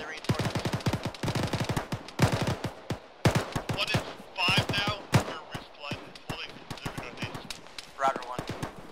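Rapid bursts of automatic gunfire and single shots crack close and loud in an ArmA military video game firefight, dense and overlapping with brief pauses, while squad voices call out between the volleys.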